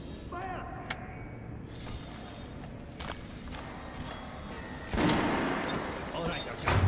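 Gunfire at a shooting range in Metro: Last Light: a few sharp shots spaced seconds apart ring out over a steady background rumble.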